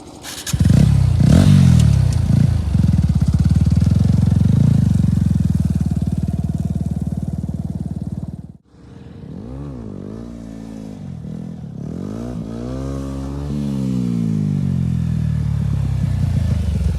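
A motorcycle engine runs and revs loudly during slow, low-wheelie practice, a steady roar for several seconds, a brief drop-out, then rising and falling revs as the bike moves on.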